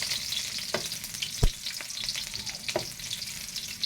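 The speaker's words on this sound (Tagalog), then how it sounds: "So, sunod natin itong ating sibuyas. Sibuyas na pula." Red onion frying in a pan, a close crackling sizzle with a few sharp scrapes and clicks from stirring, no talking.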